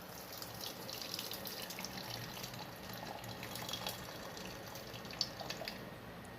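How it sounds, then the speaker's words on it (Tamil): Cooking water poured off boiled lentils (dal) just out of a pressure cooker in a home kitchen, a steady close trickle and splash of liquid running out with small drips, no talk. "பருப்பில் இருக்கிற தண்ணியை ஃபஸ்ட்டு வடிச்சிடலாங்க"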